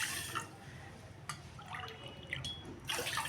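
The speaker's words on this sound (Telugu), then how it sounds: "ఈ బౌల్తోనే మూడు బౌల్స్ నీళ్ళు పోసుకోవాలి" Water pours and trickles into a bowl of flax seeds in a few short splashy bursts, close by and fairly quiet, with no talking.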